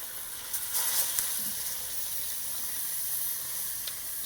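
Water poured into a pan of cauliflower and pasta hisses and sizzles steadily, a bright airy spray with a few sharper crackles, fairly faint and with nobody talking.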